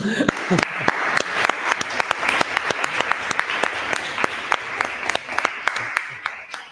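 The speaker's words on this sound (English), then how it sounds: "I think you deserve an applause." An audience at a nature-tech conference session in Badajoz gives a round of applause after a presentation, with distinct individual claps in a steady, moderately loud patter that thins out toward the end.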